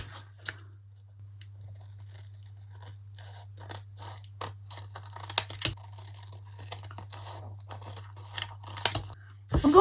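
Scissors snip and crunch through tiles on an old craft frame close by, a series of short irregular cuts and scrapes over a steady low hum.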